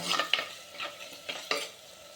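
A masala of onion, tomato, ginger, garlic, curry leaves and shallots is sautéed in a pan for a traditional fish curry. A gentle frying hiss runs underneath as a ladle makes several distinct scraping stirs nearby, with no voices.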